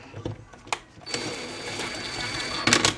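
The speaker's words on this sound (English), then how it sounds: "Let's fire the welder up and put some tack welds in there." Tack welds being laid on thin metal plate during a Datsun 521 ball joint modification: a steady, close crackling buzz with short bursts and pauses, bright and loud, and no talk.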